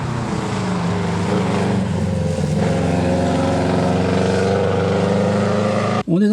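A Subaru rally car on a circuit at Faleras sounds as a loud, steady engine drone under load throughout, with the pitch shifting gradually, until a sudden dip and a sharp change near the end.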